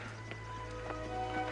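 Horse hooves clip-clop faintly at a slow, irregular pace over a low, steady background hum, with soft voices in the distance.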